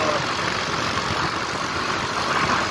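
A steady, continuous scooter engine idle drones on throughout, even and unbroken, with no talking.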